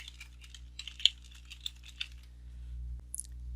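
Light typing on a computer keyboard while a teacher adds a comment to an assignment, a quiet, irregular patter of separate key taps over a low steady hum, with no talk.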